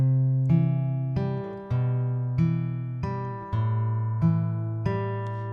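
An acoustic guitar picks out the melody of a song, in an acoustic arrangement. About eight clear, ringing notes are struck one after another at a steady, unhurried pace, each one decaying before the next, with no voice.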